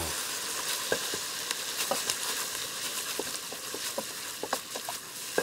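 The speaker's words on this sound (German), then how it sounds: "Und das röste ich jetzt einmal da mit den Gewürzen einmal richtig an." Tomato paste and spices sizzle and roast in a pan for currywurst sauce, a steady close frying hiss with scattered pops and crackles, no talking.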